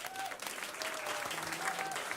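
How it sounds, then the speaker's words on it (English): An indoor audience at a regenerative agriculture celebration claps in a dense, steady burst of applause, close and continuous, with faint voices mixed in. "Please give them a round of applause."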